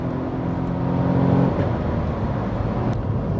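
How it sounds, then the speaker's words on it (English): The small rear-mounted engine of a Smart ForFour W453 city car strains under load on a wet road, a loud steady droning hum whose pitch shifts midway, blended with road and tyre roar. "make the little engine work"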